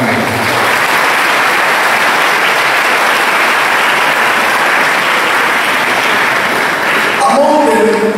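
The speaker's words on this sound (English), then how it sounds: "So boys, let us clap for our alumni." A school audience claps steadily for returning alumni at an anniversary celebration of an old boys' school in Onitsha, the dense applause sustained and loud throughout, tapering at the very end as a voice begins.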